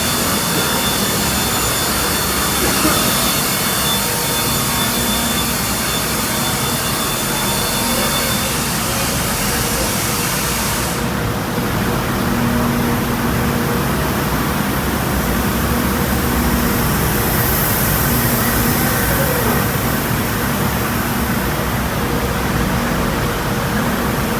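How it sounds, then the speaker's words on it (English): Sanding machines in a drum factory whir and grind in a steady, loud industrial drone that continues throughout, its tone shifting slightly partway through. "this is where we do all the sanding and finish trims"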